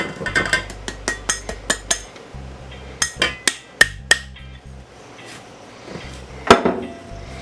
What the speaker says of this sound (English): I'm going to take the sugar and the cocoa and mix this in